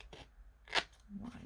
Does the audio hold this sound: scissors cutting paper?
yes